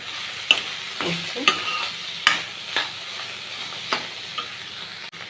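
Spine gourd (kakrol) frying in a pan with a soft background sizzle, broken by repeated sharp scrapes and clacks of a spatula stirring at roughly half-second intervals, close and fairly quiet, with a brief spoken word.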